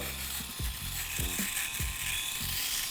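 A Philips Series 5000 electric shaver runs over a face, giving a steady close buzzing drone with rhythmic rasping strokes as the head moves across stubble, no talking.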